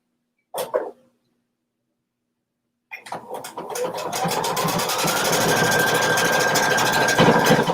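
A sewing machine tacks a pocket on a kimono. A short burst of stitching comes first, then a pause, then a longer run of rapid, steady mechanical whirring and clatter recorded up close.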